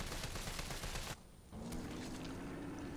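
Rapid gunfire bursts fill the first second of a Resident Evil 3 Remake fight against a parasite, then a brief quiet gap before a steady droning hum takes over.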